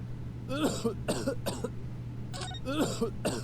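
Someone coughs repeatedly in short, harsh bursts in a courtroom scene of the video game The Great Ace Attorney Chronicles, several in quick succession, then a pause, then more coughs over a steady low hum.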